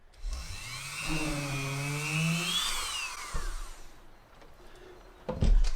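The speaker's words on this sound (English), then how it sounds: "I get my Dremel and I will drill in a hole on the side of the sleeper here" A whining Dremel rotary tool spins up, its pitch rising and falling as it drills a hole into the side of a model railway sleeper, then cuts off, followed by a sharp knock.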